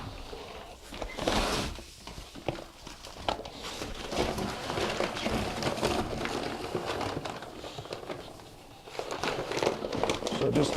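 Thinset mortar powder dumped from its paper bag into a bucket of water, with crinkling and rustling of the bag, soft thuds and shuffling handling noises across several seconds, rising at the start and end.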